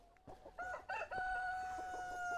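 Free-range chickens on a farm cluck in short bursts while a rooster crows in a sustained, wavering call, heard fairly quietly from a moderate distance.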